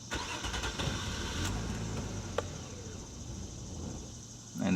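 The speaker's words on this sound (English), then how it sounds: "So we'll start the car, or we'll attempt to start the car" A Nissan Maxima engine being started to release fuel system pressure, heard as a cranking and catch on a car in a garage setting, fairly quiet and close with no talk.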